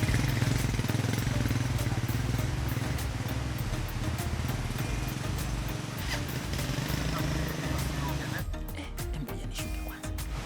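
A motorcycle engine drones steadily as it rides along, a low rumbling hum with rattling bumps, easing off near the end.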